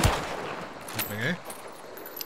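A few sharp gunshot cracks ring out in the video game Hunt: Showdown, followed by a brief whirring sweep and low background noise.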